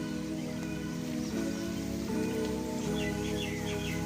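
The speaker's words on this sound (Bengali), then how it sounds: "ভাবছিলাম বৃষ্টির মধ্যে কি করব, বৃষ্টি পড়ছে" Rain falls steadily in a village setting, a soft continuous patter under music, with faint bird chirps near the end.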